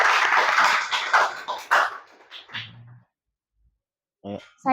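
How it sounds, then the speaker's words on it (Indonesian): Applause at the close of the SCN Investor Club business and investment event breaks out over about two seconds as a dense, loud patter of clapping, then thins away. Brief voices follow after a quiet gap. "Tepuk tangan untuk kita semua"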